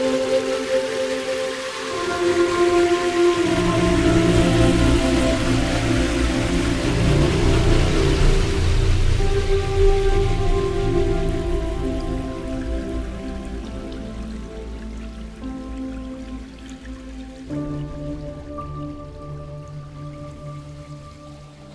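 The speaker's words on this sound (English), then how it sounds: "the water becomes a big stream" On a Soundpaint sample instrument, a small stream swells into a big, rushing torrent of water that builds to a loud, broad roar and then eases off. Sustained piano chords sit underneath and are partly washed out by the water.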